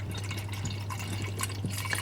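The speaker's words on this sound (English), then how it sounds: "I will put in some more coolant and we will see" Coolant trickling and dripping into a Land Rover Defender Td5 that is leaking, a soft steady liquid fill with scattered close drips over a constant low engine hum, no talking.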